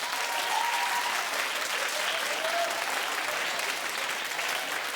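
Studio audience at a television talk show clapping in a poll, a loud sustained wash of applause with faint voices mixed in, steady throughout.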